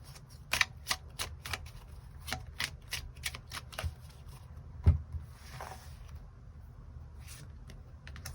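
Tarot cards are shuffled and drawn, giving sparse, crisp snaps and flicks with short papery rustles between them, faint and close with quiet gaps. No one speaks.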